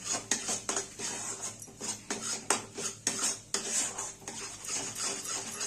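Thick khoa mixture stirred fast in a pan, a quick rhythmic series of spoon scrapes and clinks against the metal, close and steady, with no one talking.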